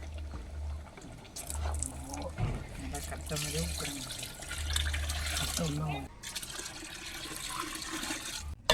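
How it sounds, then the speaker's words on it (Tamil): Water splashes and runs steadily into a pot for several seconds, fairly close, with kitchen clatter and a brief pause near the end, as water is added for seeraga samba rice biryani. "ஒரு கிலோ விதத்துக்கு ஒன்று கிலோ தண்ணி ஊற்றிக்கணும்"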